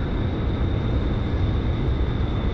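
F-16 fighter jet in flight in a flight video game, a steady loud engine roar with a constant high whine, heard alone without a break.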